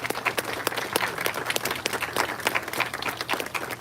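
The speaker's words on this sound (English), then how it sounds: "let's give each other a big round of applause" Sustained applause from an audience at a City of El Paso ceremony, steady dense clapping at moderate volume throughout with no talk over it.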